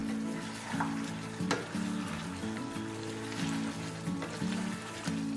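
Kerala-style pepper chicken sizzles steadily in an open pan over a high flame as it is stirred, with a continuous frying hiss and occasional scraping clinks and no talking.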